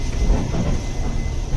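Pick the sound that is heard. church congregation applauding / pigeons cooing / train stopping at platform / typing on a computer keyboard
train stopping at platform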